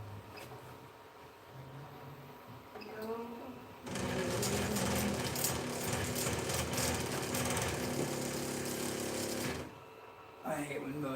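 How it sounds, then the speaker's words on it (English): Stepper motors on a 3D printer grind loudly, a harsh buzzing rattle that starts abruptly and runs for about six seconds before cutting out. Quieter room noise and faint voices come before and after it. "I hate when motors grind"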